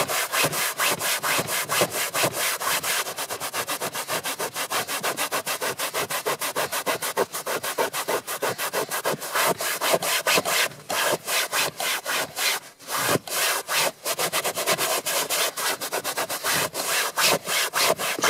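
A simple cleaning glove scrubs a car's interior during detailing, giving a steady, close, loud rhythmic rubbing with rapid back-and-forth strokes and no talk over it.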